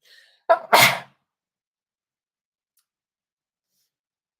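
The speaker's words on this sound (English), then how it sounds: "I was not expecting to sneeze then" A single sharp sneeze close by, a quick inhale then a burst, followed by silence.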